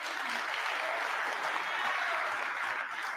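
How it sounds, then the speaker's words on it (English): A crowd claps steadily in sustained applause, dense and even throughout, with no pauses. "Please, let's give them a round of applause"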